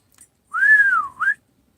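A man whistles for his dog Togo, a single clear rising and falling whistle followed by a short upward flick, alone in quiet surroundings.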